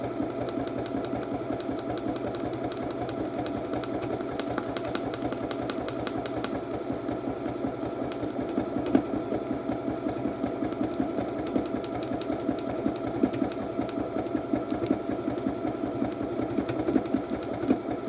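A sewing machine stitches free-motion embroidery onto knit fabric with a steady, rapid mechanical whir and fine needle rhythm, running continuously and close at moderate volume with no talking.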